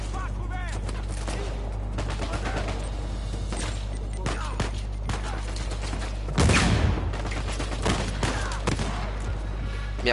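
Bursts of gunfire in Uncharted 4, sharp rapid shots scattered across the clip with a louder cluster near the middle, under game music and voices.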